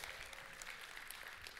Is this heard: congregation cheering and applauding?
yes